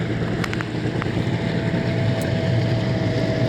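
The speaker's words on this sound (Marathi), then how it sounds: "ती बघा आपली बोट आली आहे, जी आता आपण डॉल्फिन सफरसाठी गेलेलो" A motorboat used for dolphin safaris comes in at Harihareshwar, producing a steady, loud engine drone mixed with wind noise. A few faint higher clicks sit on top, and nobody talks.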